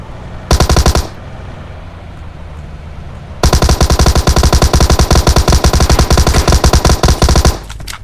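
Rapid automatic gunfire in a video game shooting match, a short burst followed by a long sustained stream of fast, loud shots that cuts off abruptly, with no talking.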